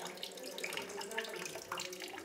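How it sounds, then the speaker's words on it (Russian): Hot water running steadily from a tap on a heating radiator as hands are washed, in a Russian village hall, with a continuous close splashing hiss and no speech. "Мы мыли руки из батареи перед общим застольем."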